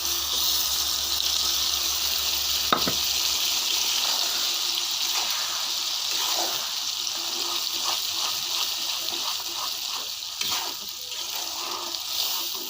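Garlic spice paste frying in plenty of oil before dried phewa shutki fish goes in makes a steady, fairly loud sizzling hiss throughout, with a few faint clicks.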